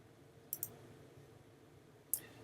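Quiet, close clicks from a computer mouse: a quick double click, then one more click a moment later, over faint room hum.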